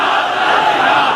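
A rally crowd chants a religious slogan in unison, a dense, loud wall of massed voices sustained throughout with no single voice standing out.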